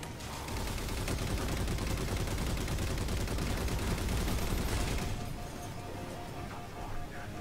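Sustained rapid fire from a mounted turret in Halo 4, a dense loud barrage of gunshots that runs for about five seconds before easing into quieter trailing shots.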